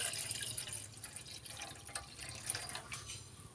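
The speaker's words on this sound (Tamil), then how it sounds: "ஒரு பவுலில் நம்ம அந்த பாஸ்தா முழுகிற அளவுக்கு தண்ணி ஊற்றிக்கலாம்" Water pours into a bowl to cover pasta for boiling, a soft continuous splashing and trickling stream at close range with no talk.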